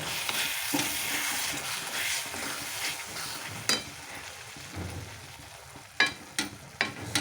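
Spices for a cauliflower curry sizzle in a pan while a utensil stirs and scrapes, followed by several sharp knocks against the pan near the end.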